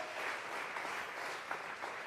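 Church congregation claps together in a steady, dense patter of applause during a Bible study service, moderately distant with a few louder claps standing out near the end.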